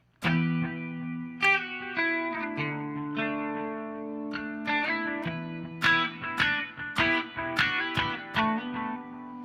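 An electric guitar plays picked notes and chords through a delay, each attack followed by repeating echoes that trail and overlap, loud and up close.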